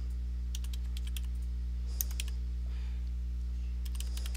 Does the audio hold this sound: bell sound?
no